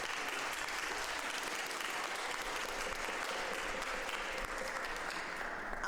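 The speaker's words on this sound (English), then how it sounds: "round of applause" A crowd at a spring benefit concert in a Presbyterian church applauds steadily, a dense wash of many hands clapping without pause and no voices.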